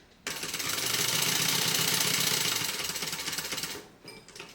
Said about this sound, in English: So I am going to back stitch here.